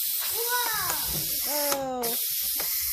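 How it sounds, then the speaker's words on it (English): Steam vents from a Quick Cooker pressure cooker cooking chicken and rice, a steady hiss with a brief louder burst partway through, while voices sound over it. "So let's release the steam."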